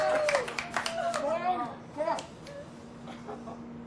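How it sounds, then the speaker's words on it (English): A family watching Felix Baumgartner's stratosphere jump applauds in a short burst of close hand claps mixed with excited voices, including a child's, then the claps fade into quieter room chatter. "Family applauding"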